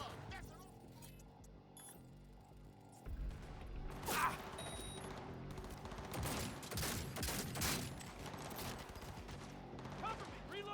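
Gunfire in the video game Cyberpunk 2077 swells after a quieter mechanical stretch, with rapid shots, clanks and clinks layered under shouted voices for the rest of the stretch.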